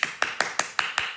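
Children in a classroom clap together in six sharp, evenly spaced claps about a fifth of a second apart, close and bright, with no talking.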